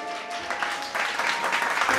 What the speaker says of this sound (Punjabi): ਜ਼ੋਰਦਾਰ ਤਾੜੀਆਂ ਬੱਚੇ ਲਈ